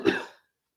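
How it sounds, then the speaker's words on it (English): A single short, close cough from a man, one quick burst that fades within half a second. "Again, pardon the cough."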